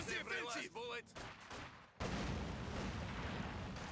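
A long MG42 burst rips out in Company of Heroes 2, loud and dense for the second half of the clip after a stretch of the game's battle noise with a voice talking over it.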